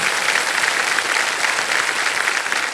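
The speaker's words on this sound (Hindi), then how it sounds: "तालियां बज जाएं इनके लिए" A television game show studio audience applauds loudly and continuously, a dense, even wash of clapping hands with no talking over it.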